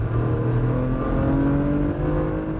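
A 2016 Porsche Macan's engine hums with a steady, fairly loud drone from inside the cabin while driving, the pitch holding even and rising slightly as the car pulls along.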